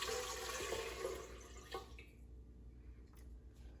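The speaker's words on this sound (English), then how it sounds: "The first step is to add 2 cups of warm water into a bowl." Warm water pours into a bowl for soft pretzel dough, a steady broadband splashing that tapers off after about two seconds, followed by a few faint drips and quiet room tone.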